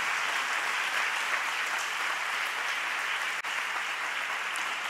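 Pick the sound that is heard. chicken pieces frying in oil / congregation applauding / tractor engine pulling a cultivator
congregation applauding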